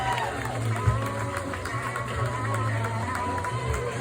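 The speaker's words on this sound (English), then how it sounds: "Let's give a big round of applause for Miss Melissa May" An outdoor crowd at an old-school car show pinup contest applauds and cheers a contestant, steady clapping and crowd noise over a low droning hum, with scattered voices.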